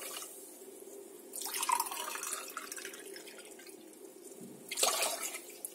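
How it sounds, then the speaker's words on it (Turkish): Water poured from a glass onto sugar in a pot to make syrup, two splashing pours a few seconds apart, close and moderately loud over quiet kitchen background. "Şimdi hemen üzerine 2 su bardağı suyumuzu ilave ediyorum."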